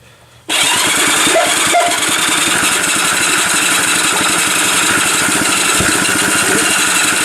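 A small Honda engine fed from a tiny gas bottle cranks and catches, then runs steadily with a loud, close, rapid putter and buzzing vibration that carries on to the end.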